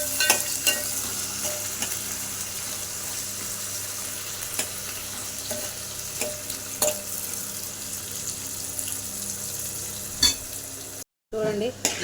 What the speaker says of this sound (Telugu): బాగా నూనెలో ఫ్రై కావాలి అవి